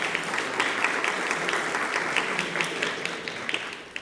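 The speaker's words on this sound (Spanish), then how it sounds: "Por favor, brindamos un aplauso" Sustained audience applause at an engineering education panel discussion, a dense steady patter of many hands clapping at moderate distance and fading slightly toward the end.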